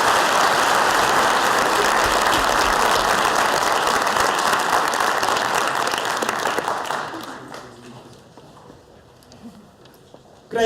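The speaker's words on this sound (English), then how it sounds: "Let's give ma'am another round of applause." Sustained applause from a school assembly audience at a Grade 9 valedictory, dense clapping that fills the hall for about seven seconds, then thins out and fades to scattered claps.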